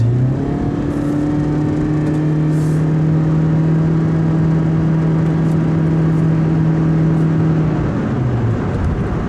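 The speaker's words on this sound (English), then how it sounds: "it sounds like it revs all the way until the red, and then it keeps it there" A 2017 Toyota Yaris 1.5 hybrid engine holds a steady, high droning rev near the redline for several seconds while accelerating, a loud sustained whine that finally drops away near the end.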